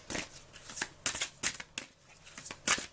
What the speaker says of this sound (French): je mélange les cartes pour le faire devant vous